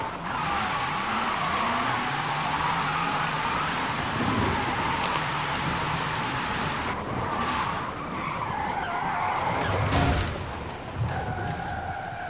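An electric 2023 Hyundai Ioniq 5 N skids and drifts in Forza Horizon 5, with continuous tire squeal over a high engine whine, the sliding noise holding steady throughout.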